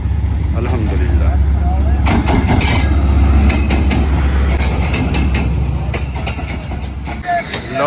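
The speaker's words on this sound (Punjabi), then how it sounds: "ਟ੍ਰੇਨ ਜਿਹੜੀ ਆ ਉਹ ਆ ਗਈ ਹੈਗੀ ਪਲੇਟਫਾਰਮ ਤੇ" A passenger train pulls into a station platform on the Khanpur to Multan route, a loud low engine rumble with rattling carriages and squeals, while voices murmur nearby.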